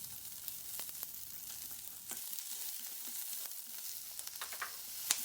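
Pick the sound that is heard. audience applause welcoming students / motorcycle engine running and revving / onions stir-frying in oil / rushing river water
onions stir-frying in oil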